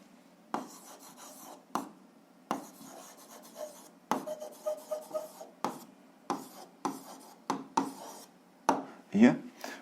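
A pen writes an answer on paper in short scratchy bursts of strokes separated by pauses, close and fairly quiet, with a voice speaking between the strokes.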